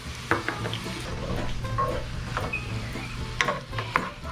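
Garlic for Portuguese tomato rice being stirred as it fries in a pan: a low sizzle under irregular scraping and clinking of a utensil against the pan, close and moderately loud, with no talking.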